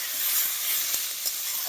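Raw green tomatoes sautéing in a pan, giving a steady high hiss of sizzling with a few brief crackles, close and continuous with no voices.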